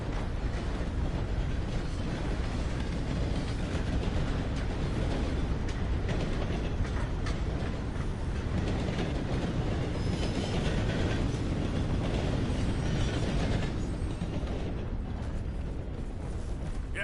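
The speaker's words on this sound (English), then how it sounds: "Pat your horse, get it used to train sounds." A train in the Red Dead Redemption 2 video game rumbles past with a heavy, continuous roar and clatter that stays loud and close throughout, with no speech over it.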